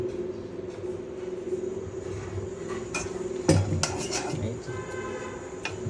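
Tomato chutney sizzling as it goes into hot oil in a wok, with steady frying hiss and clinks of a utensil against the pan, a sharper clatter midway, while people talk faintly.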